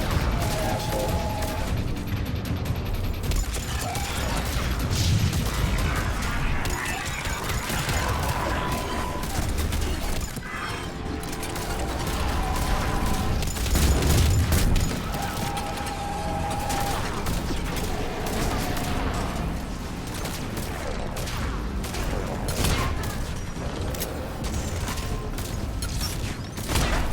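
Rifle fire in Mass Effect 3, bursts of shots crackling through a busy, dense combat mix with mechanical clatter and impacts, loud and sustained across the whole stretch.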